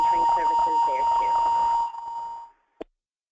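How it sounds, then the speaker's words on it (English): A fire alarm being tested gives a steady, piercing electronic tone that runs continuously under someone talking, then cuts off and is followed by a short click. "So we have a fire alarm going on here, testing."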